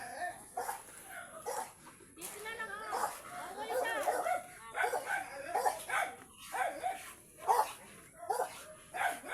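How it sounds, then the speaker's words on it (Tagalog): A dog barks and yips in short bursts, mixed with chatter and whimpering close by. "Tama na, wag ka ng tahol."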